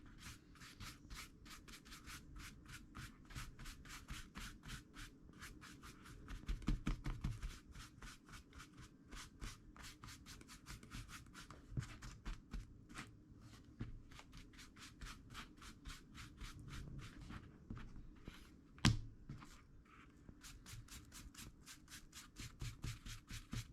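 A brush rubs paint dry onto a leather phone pouch in quick, repeated scratchy strokes, close and fairly quiet, with a steady rhythm throughout and no talking.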